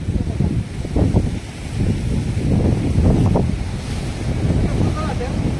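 Sea waves wash and splash against rocks near a coastal sea cave in the Konkan, a loud rolling surge with heavy wind buffeting the microphone, close by, while people talk in the background.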